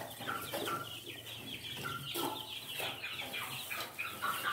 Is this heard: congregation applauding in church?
no